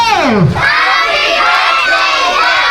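A crowd of excited children and adults at a birthday party shouts, cheers and claps loudly together, a sustained burst of cheering that begins with a rising, swooping yell.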